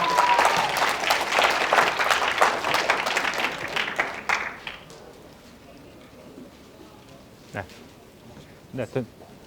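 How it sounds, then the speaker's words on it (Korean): Lecture audience at a public science talk claps to welcome a professor, a lively burst of many hands for about four seconds that fades out, followed by quiet room tone and a few faint thumps. "큰 박수로 맞이해주시기 바랍니다"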